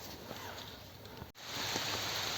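Heavy rain pours down outdoors, a dense continuous hiss of drops on surfaces that briefly cuts out and then returns slightly louder and closer.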